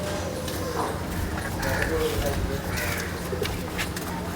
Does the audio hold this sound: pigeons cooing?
yes